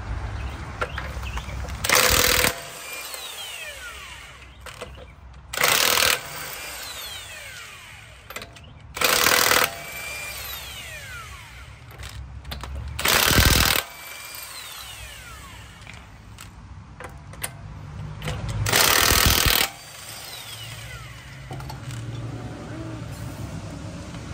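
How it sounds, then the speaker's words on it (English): An impact wrench loosens lug nuts on a jacked-up car wheel, firing five loud, close bursts of about a second each, separated by pauses with quieter background noise. "go ahead and use the impact while it's jacked up in the air"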